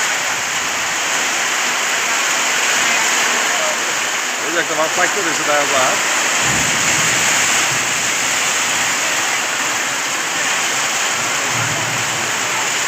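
Heavy storm rain pours steadily over Raghunathpur Madhyapara in Phulbaria, Mymensingh, a loud, dense, continuous wash that never lets up, with a voice talking briefly over it partway through.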